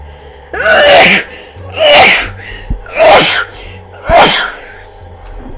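A person sneezes four times in a row, loud and close, each burst sharp and breathy with short pauses between, set over a low, steady in-cab hum.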